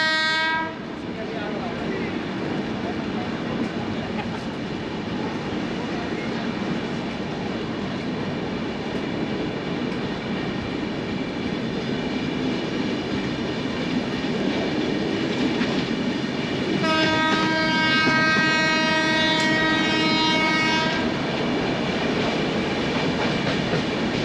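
A train in India rumbles past close by with a steady roar of wheels, its horn blaring at the start and again in a long blast later.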